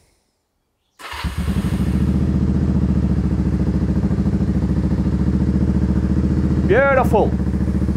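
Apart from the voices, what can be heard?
motorcycle engine starting with a new battery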